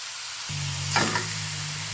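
Pork stir-fries with chili paste, shallots and ginger in a Thai red curry, a brief hissing sizzle over a low steady hum, swelling with one quick stirring burst midway.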